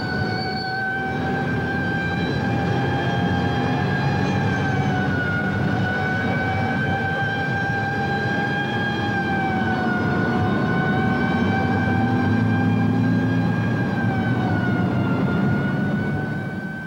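Hong Kong police car sirens wail continuously and fairly loud, their rising and falling tones sustained for about seventeen seconds over a low vehicle rumble, with no voices.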